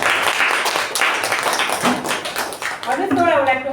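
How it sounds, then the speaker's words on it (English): Audience in a Toastmasters meeting room applauding the meeting participants, a dense steady patter of many hands clapping throughout, with a voice briefly audible near the end. "let's give a huge round of applause to all of them for making this meeting that successful"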